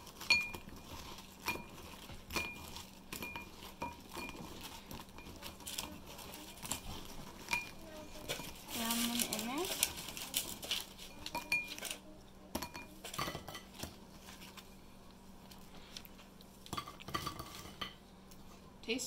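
Buttered pretzel bites are tossed by hand in a bowl, with continuous close clattering, light clinks of dishware and soft rustling stirs that rise in a busier burst midway.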